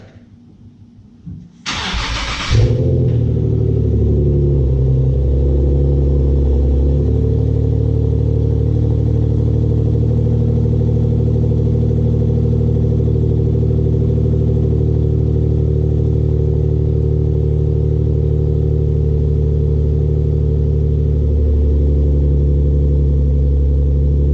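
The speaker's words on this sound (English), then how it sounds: "First, I need to turn the car around, so let's do a cold start." Nissan 370Z NISMO fitted with a Z1 cold air intake: a loud cold start with a quick crank and catch, then a raised high idle that settles into a steady rumble for the rest of the clip, nearby and alone.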